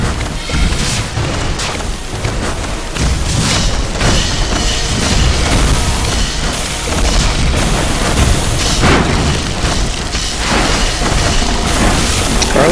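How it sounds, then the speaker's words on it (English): Heavy rifles fire in a dense naval battle of airships in the 2D steampunk strategy game Airships: Conquer the Skies, a loud continuous barrage of overlapping booms and crackling shots with no pauses. "I think they're just heavy rifles"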